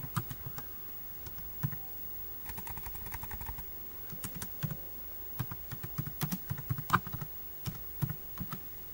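Keystrokes on a computer keyboard while entering a formula into an Excel spreadsheet, a steady run of quick, light clicks at close range with brief pauses between bursts and no talking.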